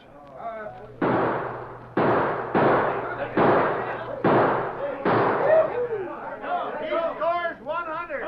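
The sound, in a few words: gunshots in a shooting contest, radio drama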